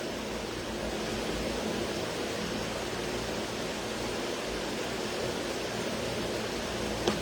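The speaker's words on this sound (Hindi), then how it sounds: "पंखे की आवाज सुनाई दे रही है, मतलब पंखा ज्यादा सुनाई दे रहा है" An electric fan runs steadily in the background, a constant broadband whoosh with no breaks, moderately loud and with no voice over it.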